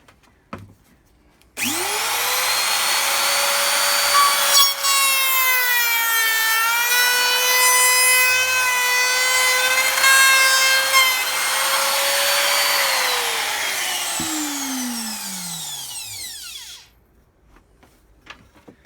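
A router fitted with a 1/4 inch bit cuts a rebated plywood lid, holding a loud steady whine for about fifteen seconds before spinning down, close up and alone.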